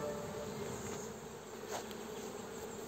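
Buckfast honey bees hum steadily at an open hive, a dense close-up drone with a brief louder buzz from one bee passing near the ear.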